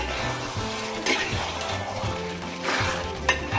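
Angamaly-style beef varattiyathu is stirred in a pan. A close, continuous sizzle is broken by scraping and light clinks from the utensil, with a low background hum.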